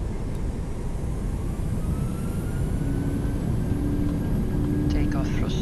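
Airliner jet engines in Flight Simulator spool up toward takeoff thrust at Cagliari-Elmas Airport, making a steady broadband roar with a faint whine that slowly climbs in pitch and holds throughout.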